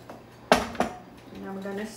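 Rice being stirred in a metal pot for rice pudding: a sharp clank of spoon against pot, then a second lighter knock, followed by a soft scraping swirl, close and brief.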